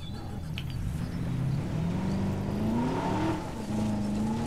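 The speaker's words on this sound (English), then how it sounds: "Drive the vehicle." A vehicle drives in Jurassic World Evolution, its engine droning steadily with rising revs and tire noise, loud and continuous throughout.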